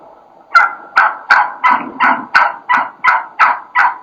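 A wild turkey hen yelps in an excited, aggressive run of about ten loud, evenly spaced notes, close by with nothing else heard.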